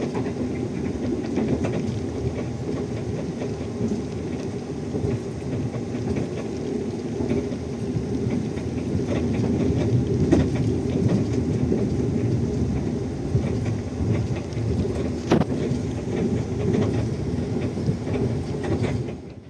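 Inside the new-generation KA Batavia economy train running from Solo Balapan toward Jakarta Gambir, a continuous low rumble of wheels on rails fills the carriage, steady and fairly loud for the full stretch.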